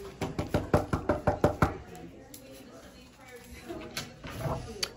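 Knocking on a post office door, a run of about nine quick, firm raps heard up close. A quieter stretch follows with faint background sounds.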